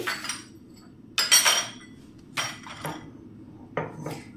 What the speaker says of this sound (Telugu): వెల్లుల్లిపాయలు తీసుకొని కచ్చాపచ్చగా దంచుకోవాలి